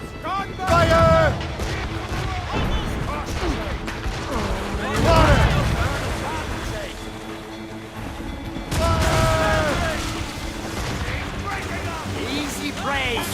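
Ship cannon broadsides firing in Assassin's Creed Rogue: three heavy, rumbling volleys spaced several seconds apart, loud and close, mixed with shouted voices of the crew.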